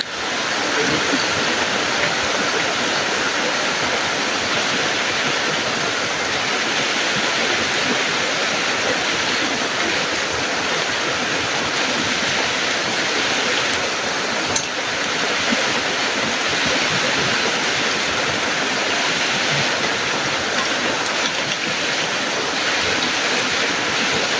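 Steady, loud rushing water flows continuously without pause, a dense broadband wash like rainwater pouring and running.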